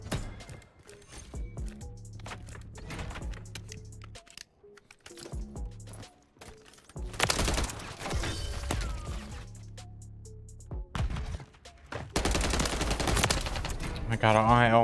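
Gunfire in a Call of Duty MW3 gunfight, with scattered single shots and louder rapid bursts of automatic fire coming in clusters, mixed with game sounds and occasional talking.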